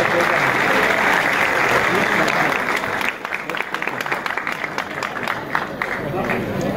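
Sustained audience applause at a mushaira poetry gathering at Quaid-e-Azam University, Islamabad, welcoming a poet to the stage: dense, steady clapping that thins toward the end, with a few louder individual claps standing out.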